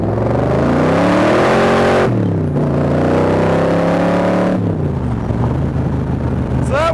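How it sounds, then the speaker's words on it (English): A Shelby Cobra replica with four-barrel carburetors accelerates hard, its engine roaring up through rising revs, dropping at a shift and climbing again loud and close, as the rear wheels break loose. "That was the back wheels breaking loose when the four barrels kicked in."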